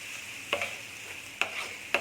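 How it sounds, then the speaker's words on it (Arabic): Garlic frying in oil in a pan for a seafood and shrimp paella, with a steady soft sizzle and a few light scrapes of a stirring utensil, heard close up with no talk. "كما كتشوفوا الثومه خلينا حتى تحمرات مع الزيت مزيان"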